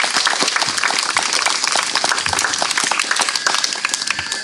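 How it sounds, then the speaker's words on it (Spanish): Strong, close applause from a community gathering, dense overlapping claps with sharp individual hits standing out, sustained and loud throughout with no talking. "Un fuerte aplauso."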